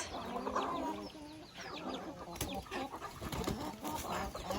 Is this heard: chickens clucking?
yes